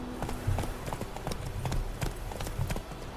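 Horse hooves clip-clop in the Witcher 3 video game, a quick steady rhythm of close, moderately loud hoofbeats running through the whole stretch, with faint background game ambience underneath.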